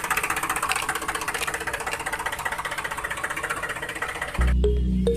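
A small toy tractor motor whirs with a fast, buzzy rattle, steady and close, then the tone shifts abruptly to a lower hum near the end.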